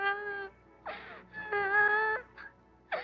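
A young boy cries in broken bursts, wavering wailing moans split by short gasping breaths, close and alone in a quiet room.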